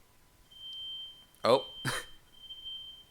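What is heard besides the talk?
smoke alarm going off while cooking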